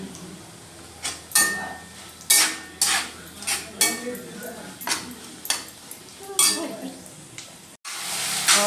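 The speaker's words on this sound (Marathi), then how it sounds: "बोंबील परतवून घेऊया" Bombil, Bombay duck fish, being sautéed in a pan, with repeated sharp metallic clanks and scrapes of a spatula against the pan over a low sizzle, loud and close.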